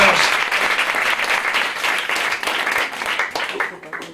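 A theatre audience breaks into loud, dense applause that gradually thins and fades toward the end, with some crowd voices mixed in.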